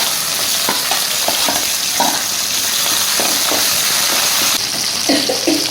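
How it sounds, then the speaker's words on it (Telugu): Green chillies, dried red chillies and onions frying in a pan give a loud, steady sizzle, with stirring scrapes and clatters recurring throughout and no talking. "ఇవన్నీ ఏగినాయి. ఇవి పచ్చిమిరపకాయలు, ఎండుమిరపకాయలు,"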